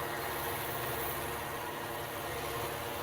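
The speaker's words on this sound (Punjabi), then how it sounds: "ਟਰੈਕਟਰ ਚੱਲ ਰਿਹਾ ਬਿਲਕੁਲ ਈਜ਼ੀ" A New Holland 850 tractor's diesel engine running, a steady low idle-like drone with an even rumble that stays at a constant moderate level, no voices.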